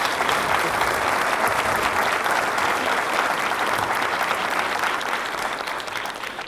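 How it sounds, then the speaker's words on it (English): Sustained audience applause at a film festival talk, a dense, steady wash of many hands clapping that stays loud throughout and eases slightly toward the end. "An applause to Jonas."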